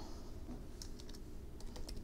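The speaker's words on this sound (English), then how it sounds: "and begin typing" Keyboard keys clatter in short irregular bursts over a steady low hum, fairly quiet and close, with no voice over them.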